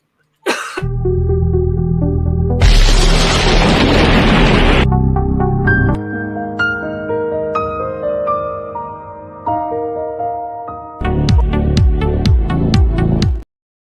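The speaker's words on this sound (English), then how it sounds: "I'm going to play the new bumper. It might be a bit loud, people." A loud show bumper jingle on a live stream opens with a sharp hit and a burst of noisy rush, then moves into tonal synth notes and ends with a fast run of punchy, bright accents.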